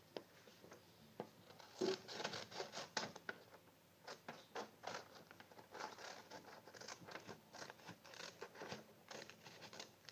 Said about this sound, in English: So now you take scissors. And now you cut.